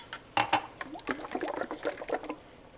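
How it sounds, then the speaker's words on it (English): Thick canned tomato sauce pours from a 15-ounce can into a small glass canning jar in a kitchen, giving a brief run of soft, irregular glugs and splats up close, with no talking. "I'm going to pour about half of it in this jar"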